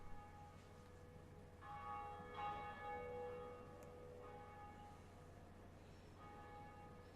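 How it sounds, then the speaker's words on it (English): The Bell of Awakening rings in the Dark Souls video game, a soft, distant church-like bell with two or three resonant strikes ringing out over a quiet background. "you're going to want to ring your first Bell of Awakening"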